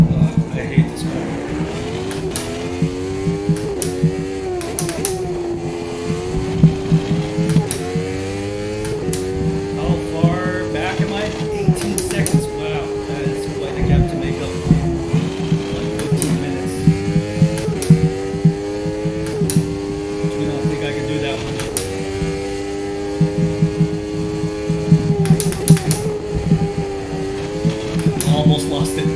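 McLaren F1 car in the sim racing game AMS2, a harsh engine note rising and falling through gear changes over and over, with someone talking throughout.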